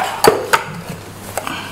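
Lime and cloves are muddled in a glass for a Ti Punch. A few sharp clinks and knocks sound close by, spaced apart, with softer grinding thuds between them.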